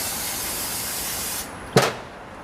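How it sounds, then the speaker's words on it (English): Brake cleaner sprays onto the transmission drain plug of a 2008 Honda CR-V 2.4L automatic, a continuous loud close hiss that cuts off, followed by one short sharp burst. "Take a little brake cleaner and clean all this up a little bit."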